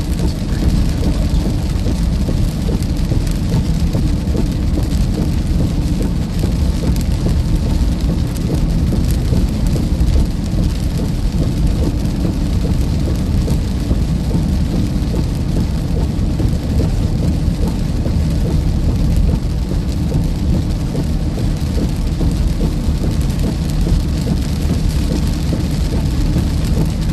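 Heavy rain pours steadily and loudly through a flash-flooding storm in southern Iowa, a dense unbroken roar with low thunder rumbling underneath throughout.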